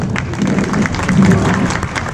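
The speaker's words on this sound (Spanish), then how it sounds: "Muy bien, un aplauso." Brief burst of applause from an audience on a theatrical guided tour, many hands clapping together at close range in a room.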